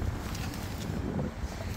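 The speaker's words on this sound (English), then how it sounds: "I'm gonna hop out the car, so I apologize if it's windy." Wind buffets the microphone outdoors beside a 2023 Subaru Ascent, making a continuous low rumble with gusty bursts and no speech.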